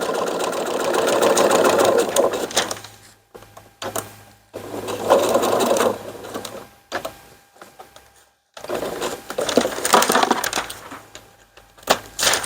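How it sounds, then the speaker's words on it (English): A sewing machine stitches ripstop fabric in loud, fast runs of buzzing stitches, stopping and starting several times with brief quiet gaps. "tuck your ripstop in there and sew"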